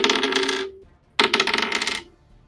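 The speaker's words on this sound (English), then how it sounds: "The reason you don't roll digital dice is because then your players get to hear this." Digital dice rolling sound effect, heard as two bright, jangly rattling bursts like tumbling coins, with a short gap between them, close and clear with no talk.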